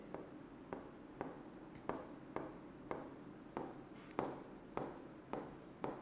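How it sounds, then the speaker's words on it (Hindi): Numbers written by hand during a maths lesson, a regular series of short scratchy strokes about every half second, close and clear over a faint background hiss, with no talking. "चलो लिख देते हैं"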